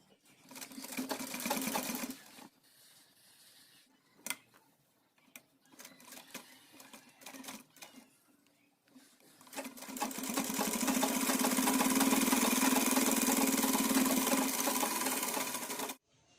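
A sewing machine stitches a button placket onto a child's pathani. Two bursts of whirring stitching come close up: a short run at the start, then a long steady run of about six seconds after quieter handling sounds.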